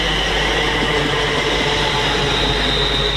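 A Class 350 electric train, unit 350249, running into Stafford station on the West Coast Main Line makes a loud, steady rolling rumble with a faint whine and wheel noise, close by and continuous, with no talking.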